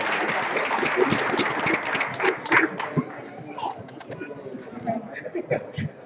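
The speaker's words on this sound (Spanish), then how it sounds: "un fuerte aplauso" An audience gives applause at a robot line-follower contest at OSHWDem 2016, a busy spread of clapping that thins out over several seconds, with people talking and calling out over it.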